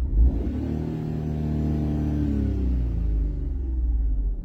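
A car engine revs hard and climbs in pitch as it accelerates, loud and close, with a deep steady rumble underneath.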